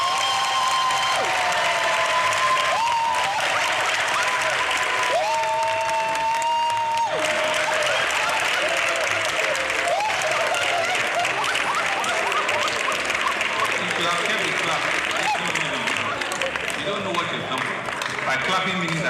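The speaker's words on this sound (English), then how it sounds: "Clapping means that she's going to work twice as much." Audience applause and clapping at a Lagos government event, a dense, steady wash of many hands filling the whole stretch, with whistling tones and crowd voices running underneath.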